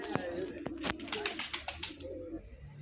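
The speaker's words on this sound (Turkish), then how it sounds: "Çok güzel kuşları var maşallah." Pet birds, probably pigeons or doves, kept at a friend's home, cooing in a series of close, fairly loud calls with brief soft chirps, while a voice talks faintly in the background.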